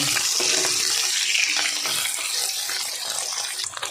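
Pabda fish sizzling in hot oil in a pan, a steady dense hiss and crackle that stays loud and continuous throughout with no talk over it.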